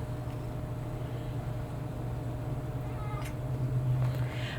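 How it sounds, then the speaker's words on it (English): A house cat meows for attention beside a crafting table, a couple of faint, brief calls rising over a steady low indoor hum, with no talking. "I know, Kitty, I know you want attention"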